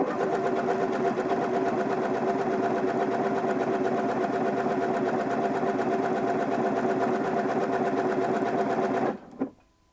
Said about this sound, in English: I'm going to tap the lever again to sew the next bar tack